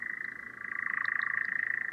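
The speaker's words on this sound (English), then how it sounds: "It attracts these nocturnal nightjars, and they only come in June" A nightjar churrs at night in Ashdown Forest in June, a continuous rapid mechanical trill that pulses steadily and grows slightly louder partway through, heard clearly with no voices.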